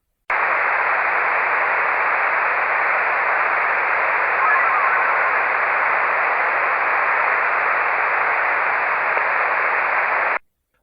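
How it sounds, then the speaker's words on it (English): A steady band of radio hiss from an SSB receiver tuned for JT6M meteor burst signals holds unchanged for about ten seconds, with no clear burst or tones standing out above the noise. "Here are some examples of what a meteor burst sounds like on an SSB receiver."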